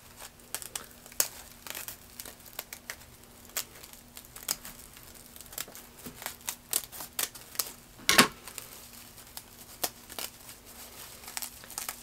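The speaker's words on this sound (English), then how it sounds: "there is another opening through the sponge, so I'm going to cut through that one" Scissors or a blade cut through a dried luffa sponge, giving a continuous stream of close, dry crackling and crisp snips, with one louder crunch partway through and no speech.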